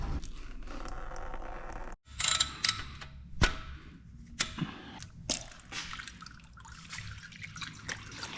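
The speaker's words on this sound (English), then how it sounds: "So as the coolant is draining out of this thing" Coolant drains from a Honda Civic Type R during a teardown for an AWD build, giving close dripping and trickling liquid with occasional sharp scrapes and knocks of tools and parts. No one speaks.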